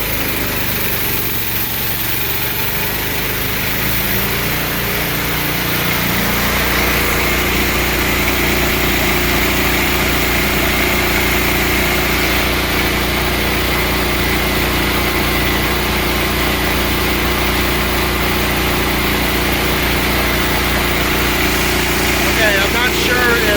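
Wen generator powering an air conditioner runs with a steady, loud engine drone, its tone dropping and lugging under load as the compressor tries to start, then settling into a continuous hum.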